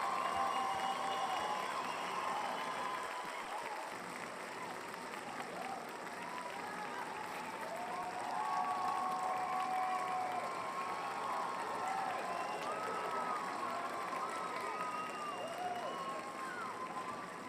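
An NFL playoff crowd applauds the Buffalo Bills against the Baltimore Ravens, with sustained clapping and cheering that swells and eases over many seconds, while voices shout and talk over it.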